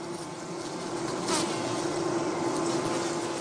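A dense, steady buzzing drone of many bees fills the air, constant and close, with a brief louder swell partway through.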